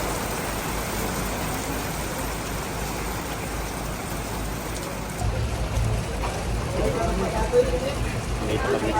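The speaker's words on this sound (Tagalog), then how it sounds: "Lumakas ang ulan." Heavy rain at Wright Park in Baguio hisses steadily and grows louder partway through, with faint voices and passing traffic underneath.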